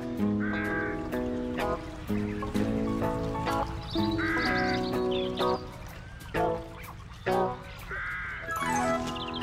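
A cartoon bird calls in a children's animated show, a series of bright, warbling honks and chirps in short bursts, close and clear over light background music.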